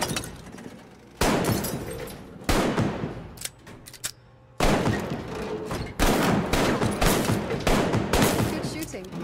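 Guns firing at targets in the VR shooter Arktika.1, loud bursts of rapid fire in several blocks separated by short pauses, with breaking and shattering impacts mixed in.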